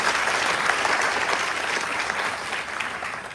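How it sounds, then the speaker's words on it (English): A crowd applauds at the naming ceremony for the cruise ship MSC World America, dense, loud and continuous clapping that eases slightly toward the end. "another round of applause one more time for Daniela Pico, Rick Sasso, Alan Clifford,"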